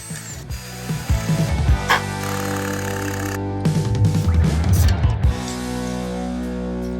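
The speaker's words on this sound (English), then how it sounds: "Just get a drill." A power drill whirs in two bursts while drilling a hole in a 2014 Ford F150 truck, its motor buzzing and ratcheting loudly up close, with a steady hum in between.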